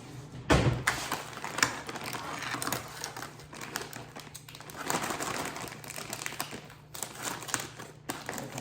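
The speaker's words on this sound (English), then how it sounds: "And this is where I need my scissors." Scissors snip and crinkle through the packaging of a container of chopped spinach in a home kitchen, a few close crisp cuts and plastic rustles over a steady low hum.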